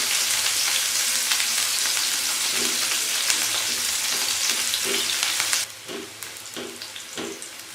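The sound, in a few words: onions frying in hot oil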